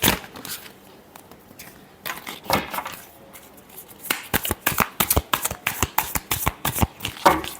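Close-up shuffling of a tarot deck: soft riffles at first, then a quick run of sharp, evenly spaced card slaps and flutters building toward the end, with no voice over them.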